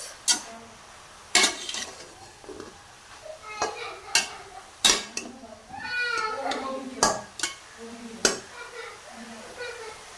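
Carrot halwa being stirred in a pan, with repeated sharp scrapes and clinks of a spoon against metal at an uneven pace, close and moderately loud, while a voice talks over parts of it.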